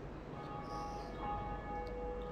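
A bell tolls in the Dark Souls Bell Gargoyle fight, a steady metallic ring sustaining evenly over a low background hum, with no talk over it.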